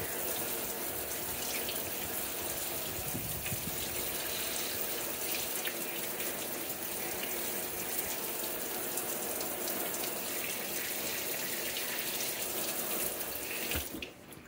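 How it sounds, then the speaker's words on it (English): A tap runs steadily as water rinses a Camelbak: a constant close hiss and splash with no talking, which cuts off abruptly near the end. "Rinse that off."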